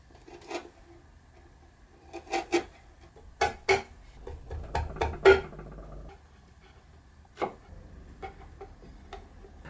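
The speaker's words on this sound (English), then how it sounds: "I made a bunch of saw cuts down to the depth and pared it out with a chisel." A chisel pares out a wooden hinge recess cut to depth in the lid of a dovetailed box with curved sides, giving close, sharp scraping and tapping strokes in irregular bursts with quiet pauses between them and no talking.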